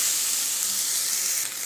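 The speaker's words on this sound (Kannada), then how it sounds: "ಇದನ್ನು ಒಂದು 5 ಮಿನಿಟ್ಸು ಚೆನ್ನಾಗಿ ಎಣ್ಣೆಯಲ್ಲಿ ಈ ಥರ ಫ್ರೈ ಮಾಡ್ಕೊಳ್ಳೋಣ" Capsicum and cabbage fry in hot oil for vegetable fried rice, producing a loud, continuous, close-up hissing sizzle with no voices over it.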